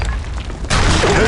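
A video game grenade goes off with a sudden loud boom partway through, after a low rumbling lead-in, and the blast leaves a dense, hissing wash that rings on to the end.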